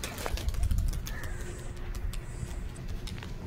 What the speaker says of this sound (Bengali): তো ভিউয়ার্স কিছু কবুতর উড়াবো